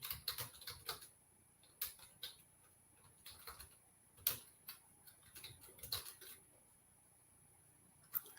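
Keystrokes on a computer keyboard, quiet and close, arriving in short irregular bursts of clicks with brief pauses between them.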